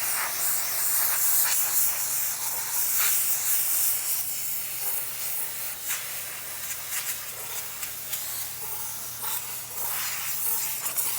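A powerful steamer blasts a steady, loud hiss of spraying steam across dirty car seatbelts, continuous and close with small surges in intensity and no voices.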